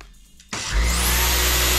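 A Samsung Jet 70 cordless stick vacuum switching on: a short click, then the motor whines up quickly into a loud, steady, high-pitched whir that holds at full volume.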